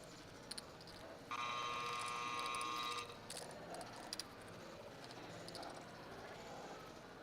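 A poker tournament action clock buzzer at a card-club final table sounds as one steady, loud electronic tone lasting about two seconds over a low room murmur.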